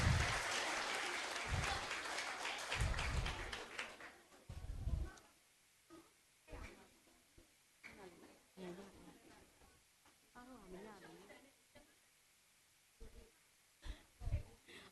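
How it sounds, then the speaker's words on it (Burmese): An audience at a children's ministry event in a school bursts into loud applause that fades after a few seconds, followed by scattered claps and brief voices. "အားလုံးပဲလက်ခုပ်တီးပြီးဂုဏ်ပြုပေးရအောင်"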